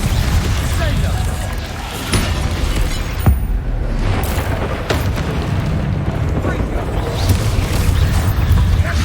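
Confringo and Descendo spell impacts in a magic video game, heard as a dense run of booming blasts and crackling bursts packed one after another without a break, with a voice calling out now and then.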